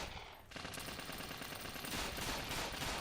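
Enemy gunfire in a video game, dense rapid machine-gun bursts that start after a brief lull and continue as a loud, steady crackling volley with no talking.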